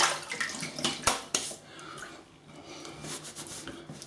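Water splashing as hands wet a face at a sink before a shave with Proraso Wood and Spice cream and a Gillette Slim Adjustable razor: close, irregular splashes and drips, a few sharper slaps, then a softer steady trickle.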